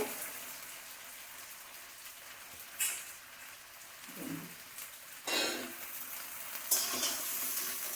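Okra and potatoes sizzle in a pan with a constant soft crackle, punctuated by a few louder scraping bursts as the mix is stirred, close and fairly quiet.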